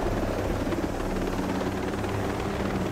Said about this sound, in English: A helicopter over there as well.